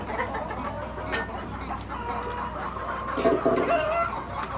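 Rhode Island Red roosters and hens on a poultry farm, clucking and calling steadily at moderate distance, with a slightly louder burst of clucks near the end amid general barnyard noise.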